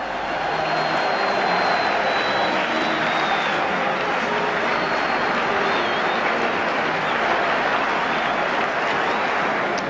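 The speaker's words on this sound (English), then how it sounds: "there's the crowd as they go out onto the pitch" Large 1970s football crowd roaring steadily as West Ham United walk out onto the pitch, a dense continuous wall of cheering and applause with distant whistles, loud and unbroken throughout.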